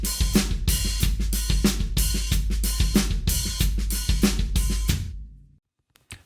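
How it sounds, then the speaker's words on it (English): A drum kit playing a funky disco groove with open hi-hats on the offbeats, loud and close, with steady kick and snare under hissing hat splashes for about five seconds before it stops and rings out. "We can take that pattern and open the hi-hats on all the ands,"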